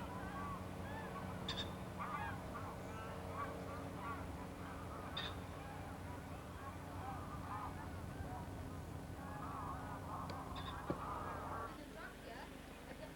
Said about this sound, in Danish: For eksempel her ved fuglereservatet ved Tors Skovby.